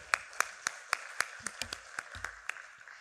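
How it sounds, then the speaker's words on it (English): Sparse, distinct hand claps ring out at an evening inauguration ceremony for an academic anniversary session as dignitaries are welcomed, about a dozen fairly even claps spaced through a quiet room. "Let's welcome the dignitaries with a round of applause, ladies and gentlemen."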